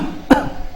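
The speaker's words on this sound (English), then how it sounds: "Cough, you see?" One short, sharp cough from a person, close and on its own, a single burst against a quiet background.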